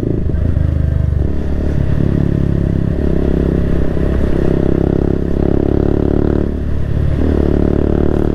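Motorcycle ride on an early-morning outing, with a steady engine drone and wind rumble running throughout, loud and close, plus occasional rattling clatter and no talk.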